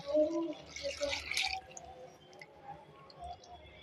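Meat-cooking water is poured into a pan of Telangana-style mutton curry, giving a short run of close wet splashes and drips for about a second and a half before it settles to a quiet simmer.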